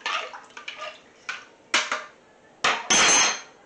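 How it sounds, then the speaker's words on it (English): Soaked rice is stirred in a pot, giving a series of wet scraping and clinking bursts, close and fairly loud, ending in a longer rushing swirl. "Okay, so this rice has now been soaked for over half an hour. It's going to give it a stir around."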